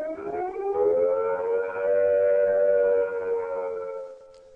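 UK nuclear attack warning siren sounding a loud, sustained rising-and-falling wail with strong harmonics, holding steady for several seconds before fading at the end.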